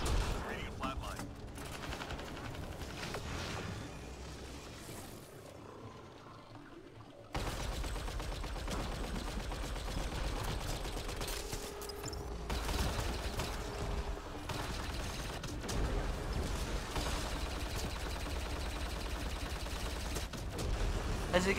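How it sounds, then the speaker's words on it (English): Gunfire in Mass Effect Andromeda multiplayer from a Turian Soldier using Cyclone and Indra weapons. Dense, continuous bursts of automatic fire and impact sounds run throughout, mixed with game effects and someone talking over the action. "what I can actually do is stop reload and then start firing"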